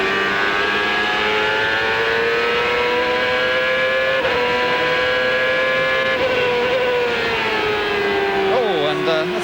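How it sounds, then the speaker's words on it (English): A Toyota race car engine screams at high, steady revs from onboard Montoya's car, its pitch sweeping slightly as it works through gears, loud and continuous with a commentator talking faintly beneath. "Good chance to listen to that Toyota engine hard at work."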